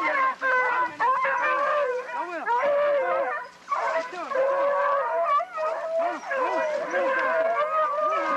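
Pack of hunting dogs baying, howling and yipping continuously, loud and close, with overlapping voices and brief whimpers throughout.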